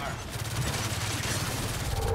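A futuristic shock weapon in the video game Gears of War 4 fires in a rapid, continuous crackling stream, loud and dense for about two seconds, with faint game noise underneath.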